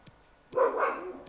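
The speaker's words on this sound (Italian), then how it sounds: "Pure il cane mo si mette." A dog barks once indoors, a single sharp, moderately loud bark after a quiet moment, with faint background noise.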